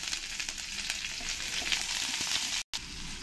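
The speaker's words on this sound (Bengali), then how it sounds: "এবার আমি এর মধ্যে পেঁয়াজগুলো দিয়ে দেবো তেলের মধ্যে।" Onions frying in oil and ghee with whole spices and bay leaves for egg pulao, a loud, continuous close sizzle with stirring scrapes and a brief cut near the end, no talking.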